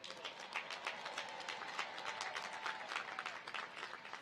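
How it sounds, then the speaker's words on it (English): A commencement ceremony audience claps for honor graduates, a steady, moderately distant stream of applause with clustered individual claps. "Please join me in giving all of our honor graduates a round of applause."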